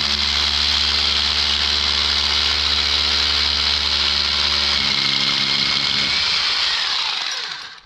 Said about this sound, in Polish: Pręta złapałem, no wiercę z boku.